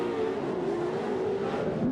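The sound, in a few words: off-road pro 4x4 race trucks racing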